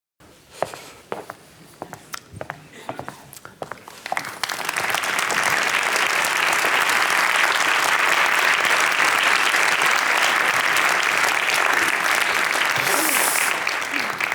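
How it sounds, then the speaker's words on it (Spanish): Audience applause before a talk begins in a theatre hall, starting with a few scattered claps and swelling at about four seconds into a loud, dense, sustained ovation from a large crowd that continues to the end. "Siempre me gusta este aplauso antes de empezar."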